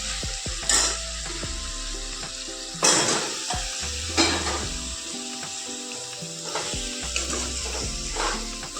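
Local country chicken frying in masala in a hot pan, a crackling sizzle with repeated scraping and stirring strokes of a spatula against the pan, close and moderately loud, with no talking.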